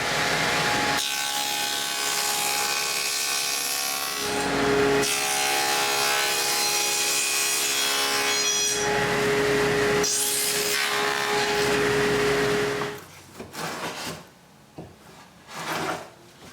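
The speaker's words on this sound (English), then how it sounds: "After measuring how much to remove, I set the dado blade to this height and remove some wood." A dado blade on a saw cuts into cedar wood for a patio table, a loud sustained whining rasp with tonal hum in passes over about twelve seconds, then the blade spins down amid clattering handling noises.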